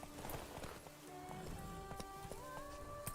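Roach the horse trotting in The Witcher 3, hooves clip-clopping steadily across the ground amid game ambience and tonal music, with occasional faint voice.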